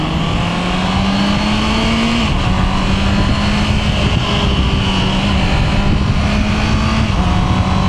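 A Honda CB650R E-Clutch motorcycle cruises steadily along the SLEX expressway, its engine droning loud and continuous with a smooth rising pitch through gear changes and heavy wind roar throughout.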